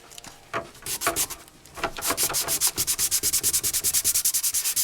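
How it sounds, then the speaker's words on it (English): Sandpaper rubbed by hand over a plastic part from a Yamaha RZ350 motorcycle during restoration, starting with scattered strokes and settling into a steady, fast run of close, loud back-and-forth rasps. "the first thing I got to do before I do anything is sand that down"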